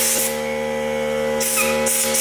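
Compressed air hisses from an air compressor nozzle, used to slide a grip onto a handlebar, a loud continuous spray with bursts of brighter hissing over a steady hum.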